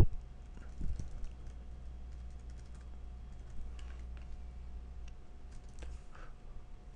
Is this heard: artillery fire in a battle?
no